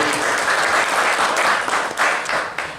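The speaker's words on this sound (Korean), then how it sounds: "우리 또 이렇게 멋진 강연 해주신 우리 이철종 대표님께 큰 박수 한번 부탁드리겠습니다." Loud, steady applause from a crowd at a panel discussion on public procurement and anchor institutions, thick continuous clapping that holds throughout with slight swells.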